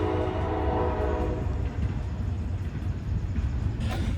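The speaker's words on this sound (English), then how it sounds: "the train decided to come by while we were recording" A train rolls past a yard sale with a steady low rumble and clatter, its horn blowing in long sustained tones through the first half, fairly distant and with no talk over it.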